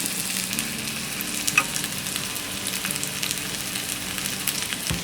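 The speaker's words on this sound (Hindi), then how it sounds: "इसे हम पैन में रखेंगे और इसे लो फ्लेम में हम इसे फ्राई करेंगे" Paneer cubes with capsicum and onion fry in a pan on a low flame, giving a steady, even sizzle with faint crackles and no voices.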